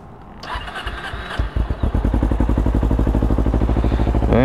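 A high-mileage motorcycle, a first bike, cold-starting: starter cranking and clatter, then the engine catches into a steady, loud, rapid idle pulse close by, with no talk.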